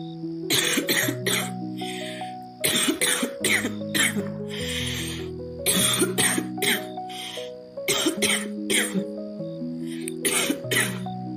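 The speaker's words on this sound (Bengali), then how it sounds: "আবার সেই জীর্ণ ভগ্ন কণ্ঠে কাশি উঠে আসে তার" Repeated bursts of a woman's harsh coughing come in several clusters, each a quick series of hacking coughs with brief pauses between, against a soft musical background.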